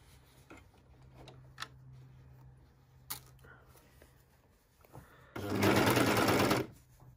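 A sewing machine runs in one loud, steady burst of roughly a second and a half as it stitches the armhole seam of a T-shirt. Quiet handling noises and a low hum come before it.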